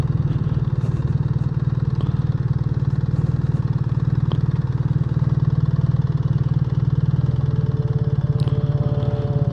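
A 2025 BMW R 1300 GS motorcycle engine running steadily close by on a Pennsylvania outing, a continuous low throbbing rumble with a faint mechanical clatter, no talk over it.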